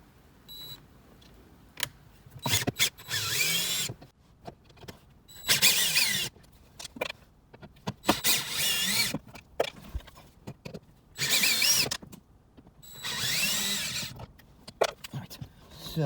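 Power drill with a hex bit and extension backing out screws on a 2018 Camaro SS center console lid, several short high-pitched whirring bursts spaced a couple of seconds apart, close up, with faint handling noises between.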